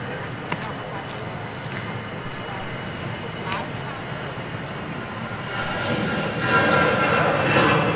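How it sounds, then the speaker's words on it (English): A Eurowings jet airliner landing on a distant runway at Zurich airport, its engine roar rising slowly and steadily from far away beneath constant low rumble, while people talk nearby. "It's got what looks like a Eurowings just coming in on the other runway."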